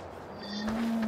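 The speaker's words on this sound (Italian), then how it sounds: "Ci sono comparse le mucche." A cow moos in the video game Farming Simulator 15, one short, steady low call rising out of a murmuring ambient backdrop, clear and fairly close, with nobody speaking.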